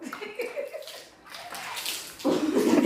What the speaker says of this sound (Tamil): டிவியும் கழுவுவோம்